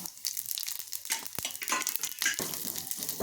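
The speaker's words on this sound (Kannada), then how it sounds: "ಎಲ್ಲ ಒಟ್ಟಿಗೆ ಅಂತ ಫ್ರೈ ಮಾಡ್ಕೊತೀನಿ ರೀ" Whole spices fry together in oil over a low flame for a tamarind chutney. The sizzle crackles continuously, broken by sharp stirring scrapes and knocks against the pan.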